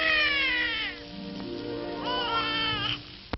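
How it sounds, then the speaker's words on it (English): A newborn baby cries in a nursery with a couple of rising and falling wails, thin and somewhat distant on an old, band-limited recording. "From a distant nursery, the cry of her brand new baby."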